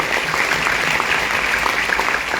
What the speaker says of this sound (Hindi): एक जोरदार ताली होना चाहिए गुरु के लिए